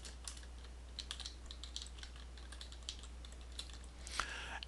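Quick, quiet typing on a computer keyboard as a custom show name is entered in PowerPoint, with irregular soft key clicks throughout and a slightly louder burst near the end.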